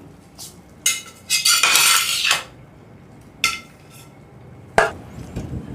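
Boiled potatoes tipped from a pot onto a plate, giving a few clinks and scrapes of metal against dishware with a longer clattering burst near the start, close and fairly loud, with no talking.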